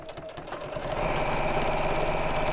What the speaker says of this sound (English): So just on the overlap bits, I just like to reverse back a few stitches